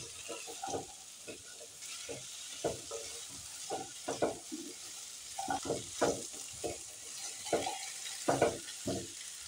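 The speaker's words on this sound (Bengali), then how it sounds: "এবার আলু সব কিছুর সাথে ভালো করে ভেজে" Chopped potatoes are fried and stirred with onions and vegetable stems in a pan. Close, rhythmic bursts of spatula scraping repeat over a soft, continuous sizzle, with no one talking.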